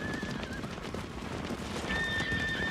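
Horses whinny amid steady background noise, with a high drawn-out neigh early on and another longer one toward the end.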